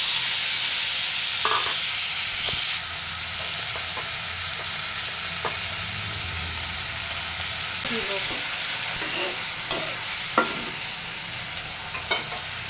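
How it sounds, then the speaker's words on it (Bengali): Diced potatoes frying in a pan after the fish has been removed, with salt and turmeric added, giving a steady close sizzle with occasional stirring clicks and scrapes throughout. "এবার এটা একটু ভাজা হোক।"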